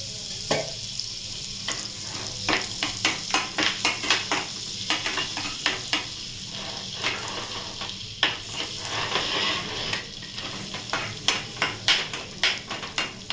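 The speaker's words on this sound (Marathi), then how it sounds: "आता बघा, मी याच कढईमध्ये अजून थोडंसं बटर टाकून घेते। तर बटर टाकलंय आणि 1 चमचा तेल।" Butter and a spoonful of oil heating in a kadhai while cooking soybean butter masala. A constant hissing sizzle runs underneath repeated scraping and clinking strokes of a spoon against the metal pan, close and busy.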